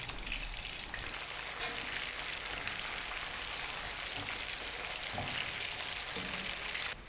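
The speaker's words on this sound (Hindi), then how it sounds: "मीडियम फ्लेम पर हम इसको 2 से 3 मिनट के लिए एक साइड से फ्राई करेंगे" Cauliflower florets frying over a medium flame in a pan for a fried khara gobi dish, giving a steady, loud, dense sizzle and crackle like heavy rain that continues without a break.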